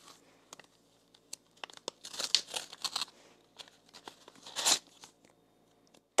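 A paper surprise being opened gives quiet, close crinkling and tearing, in several short bursts of rustling with two louder rips, and no voices.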